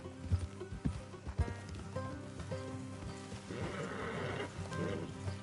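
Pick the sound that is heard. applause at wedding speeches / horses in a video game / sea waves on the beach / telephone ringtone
horses in a video game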